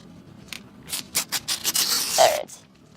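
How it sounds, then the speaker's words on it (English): A completely blank sheet of paper is torn in a quick series of short ripping bursts that run together into one longer tear, close and fairly loud, with no talk. "I'm going to take this piece of paper, which is completely blank, and continue to rip it"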